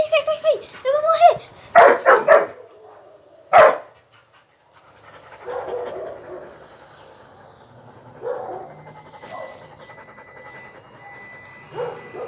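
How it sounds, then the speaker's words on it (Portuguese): A small pinscher dog at risk of dying, yelping and barking in several sharp, close bursts early on, then panting and faint whimpering under background noise. "É um cachorrinho pinche."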